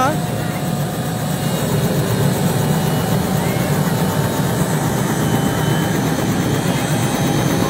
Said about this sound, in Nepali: अब हेलिकप्टर उड्दैछ।